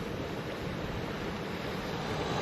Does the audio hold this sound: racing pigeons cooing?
no